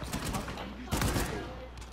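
Gunfire in a video game, two loud bursts of shots about a second apart that stand out over a busy background.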